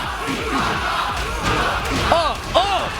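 A crowd cheers at a Tekken World Tour 2019 Summer Jam top 16 fighting game tournament, a continuous roar with individual shouts and hollers rising above it.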